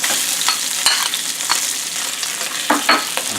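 Hatch chilies fry in hot oil in a pan, a steady close sizzle broken by several sharp crackles and pops as they are stirred, with no voices.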